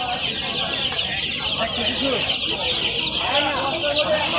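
Chickens cluck in a dense, continuous chorus at the busy Tongi poultry market near Dhaka, with market chatter and other voices mixed underneath.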